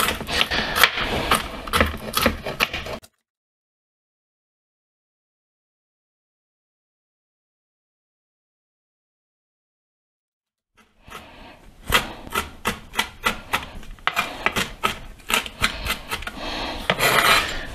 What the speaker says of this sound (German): schönen Walnüsse und werden die hier ja relativ fein runterhacken